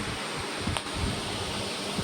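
A noisy ceiling fan spins in a home hall, giving off a steady, close whirring rush of air that continues without pause and with no voices over it.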